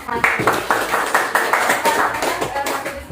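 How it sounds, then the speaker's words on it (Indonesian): A classroom group receives applause from students, a dense burst of many hands clapping steadily for about three seconds, with a raised voice briefly calling out over it. "beri aplaus untuk kelompok"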